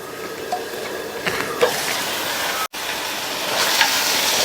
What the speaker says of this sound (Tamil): தக்காளி நல்லா வதங்கி மசிஞ்சு வரட்டும்